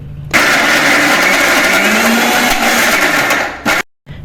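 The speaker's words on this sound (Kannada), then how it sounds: "1 ಕಪ್ ಕಾಯಿ ತುರಿ, 1 ಕಪ್ ಬೆಲ್ಲ ಇವುಗಳನ್ನು ಮಿಕ್ಸರ್ ಜಾರಿಗೆ ಹಾಕಿ ನುಣ್ಣಗೆ ರುಬ್ಬಿಕೊಳ್ಳಬೇಕು" A mixer grinder whirs loudly as it grinds grated coconut and jaggery in its jar for holige, a steady high whine for about three and a half seconds, then cuts off abruptly.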